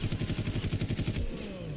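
Rapid automatic gunfire in the Far Cry video game, a quick string of about a dozen evenly spaced shots ending abruptly, followed by a fading ring.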